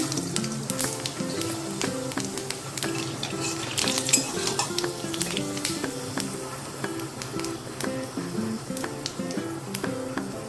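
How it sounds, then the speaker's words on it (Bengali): Panch phoron spices sizzle and crackle in hot oil in a wok, a steady close frying hiss with scattered pops and spoon stirring scrapes throughout, no talking. "কড়াইতে তেল আছে, এবার আমরা 5 ফোড়ন দিয়ে দিই।"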